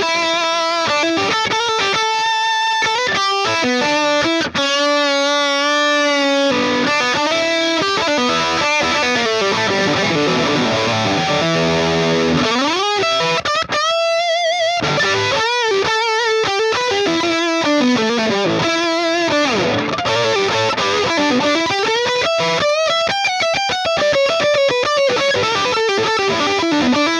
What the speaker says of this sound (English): Those are some cool lead tones right there.